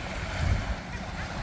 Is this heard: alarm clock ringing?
no